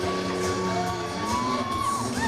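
Crowd cheering and whooping at a motocross track, a steady roar of voices with scattered yells, near and sustained for the whole moment.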